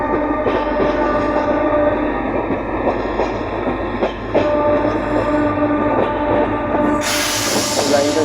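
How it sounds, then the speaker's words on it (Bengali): A MEMU commuter train runs toward Howrah on a parallel line near Shalimar, heard from aboard a moving train as a steady loud rumble with hiss and faint rhythmic clatter throughout. "ওই হাওড়ার দিকে একটা মেমো ট্রেনও যাচ্ছে ওপাশে"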